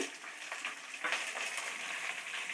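Small peeled onions fry slowly in oil in a pan, giving a steady soft sizzle with light crackling, faint and close, with no talk over it.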